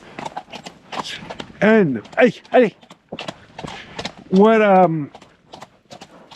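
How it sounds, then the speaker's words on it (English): A horse's hooves clip-clop at a walking pace up a very steep hill, with steady nearby footfalls under a man's spoken calls and urging. "come on, horse, don't be lazy"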